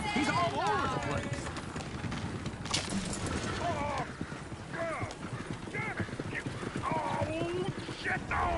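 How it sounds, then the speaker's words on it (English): Rapid hoofbeats of horses galloping in Red Dead Redemption 2 gameplay, with occasional neighs and whinnies, alongside loud overlapping voices and game-like noise throughout. "Shit, the horses!"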